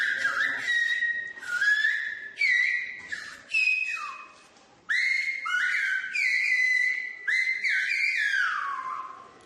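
Whistled speech from the Canary Islands, Spanish island whistling language: a run of loud, close, gliding whistled phrases rising and falling in pitch, broken by short pauses, with no talking.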